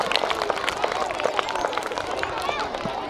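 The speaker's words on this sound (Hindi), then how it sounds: "एक बार और ताली में स्वागत करते हैं" An audience at a school annual function claps together in welcome, a dense, steady patter of many hands sustained throughout, with faint crowd murmur beneath.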